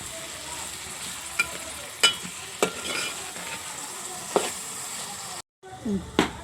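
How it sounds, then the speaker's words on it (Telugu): Fried dried prawns go into a sizzling tomato curry, a soft continuous frying hiss punctuated by several sharp spoon clinks and scrapes against the pot, with a brief silent gap near the end. "ఫ్రై చేసిన రొయ్యలు వేసేస్తున్నానండి"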